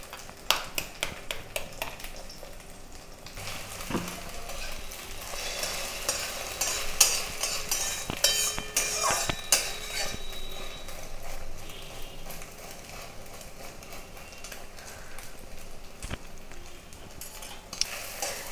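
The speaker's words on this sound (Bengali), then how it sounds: "আমি ডিমের গোলাটা দিয়ে দিচ্ছি। এটা হতে থাকুক" Beaten egg omelet frying in oil in a pan, a steady close sizzle with scattered scraping and stirring clicks throughout, no voices.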